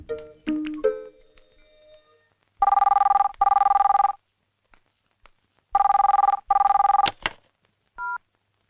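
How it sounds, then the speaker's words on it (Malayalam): A telephone bell rings loudly in two bursts of paired rings with a short pause between them, after a few brief electronic beeps and ending in a single short tone. "സുഷമേ, ദേ ഫോൺ."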